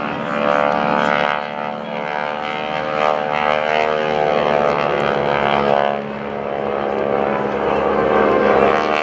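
GEICO Skytypers propeller aircraft drone overhead at an airshow, a loud steady engine hum that swells and eases as they pass, with an announcer talking over it.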